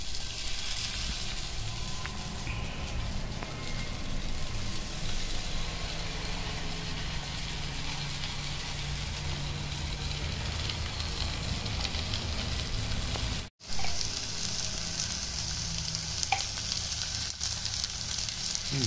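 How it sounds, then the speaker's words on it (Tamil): Pomfret fish frying in oil on a hot dosa griddle, a steady close hiss and sizzle with crackling pops that runs throughout, broken only by a brief cut near the end. "இந்த தோசைக்கல்ல மேலே போட்டு எடுத்தீங்கன்னா அது டேஸ்ட்டே நல்லா சூப்பராக இருக்கும்"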